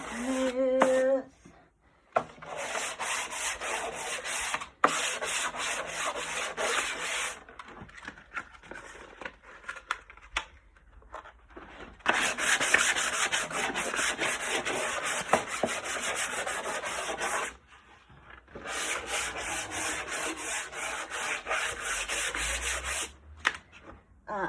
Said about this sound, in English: I've got an extra fine sanding sponge, and I'm just going to go back and forth a couple of times over those edges